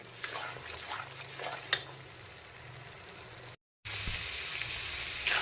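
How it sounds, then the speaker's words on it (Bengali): Cashew, poppy seed and melon seed paste hitting hot masala in a pan, giving a soft, steady sizzle with a few clinks, a short break, then a brighter, louder hiss. "এখন দিয়ে দিচ্ছি কাজু, পোস্ত আর চারমগজের মিহি পেস্ট।"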